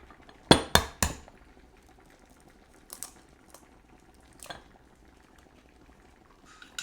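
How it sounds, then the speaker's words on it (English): A raw egg is cracked into a bowl while making sukiyaki: three sharp, close taps in quick succession, then a few quieter clicks and small knocks against the bowl in an otherwise quiet room, with no talk. "So let's crack our egg."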